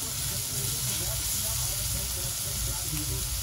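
Paneer bhurji with onion frying on a hot griddle where bhakri was just roasted, giving a dense, continuous sizzle and hiss close up with no pauses.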